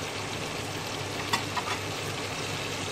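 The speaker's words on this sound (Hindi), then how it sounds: "गरम ऑयल में चिकन डालने के बाद हम इसमें लौंगे डालेंगे" Large chicken pieces fry in hot oil with cloves, a soft, steady sizzle close by with a couple of faint clinks, no voices.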